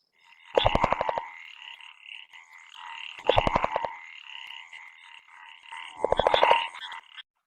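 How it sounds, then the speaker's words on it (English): A common tree frog, Polypedates maculatus, gives three separate rapid rattling calls, each a quick burst of clicks, with soft chirring between them in an otherwise quiet recording. "Polypedatus maculatus. Common tree frog."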